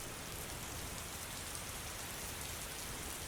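Rain falls steadily outside an empty school classroom, drifting in through open windows on both sides as a constant, soft, dense hiss with no voices.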